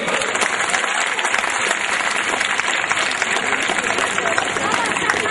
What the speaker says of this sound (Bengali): জোরে একটা তালি দিয়ে দাও